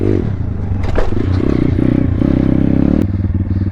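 A small pit bike motorcycle rides at a skatepark, its engine droning steadily and close throughout with revving surges, mixed with clattering and scraping from the concrete surroundings.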